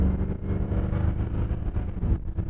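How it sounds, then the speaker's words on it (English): A 1957 Chevrolet Bel Air restomod rumbles through its exhaust with a deep, throaty, steady burble close by, without speech. "Just listen to that exhaust sounding good."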